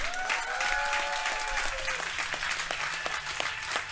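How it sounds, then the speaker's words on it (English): Loud audience applause for a comedian at a stand-up comedy roast fills the clip, with a few cheers and whoops at the start before the clapping thins out. "Nice round of applause. Let him hear it."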